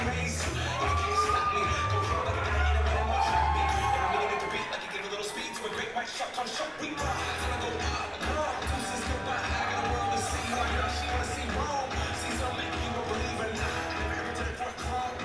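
A wrestling event crowd in an arena cheering for Chris Colen, a continuous roar of voices and shouts that stays at a steady, full level throughout.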